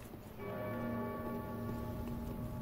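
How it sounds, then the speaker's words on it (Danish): A bell in Dark Souls 3 rings out with a clear, resonant tone that starts abruptly and hangs on, its layered overtones sustaining steadily over quiet game ambience. "Og der er den her klokke, der ringer igen"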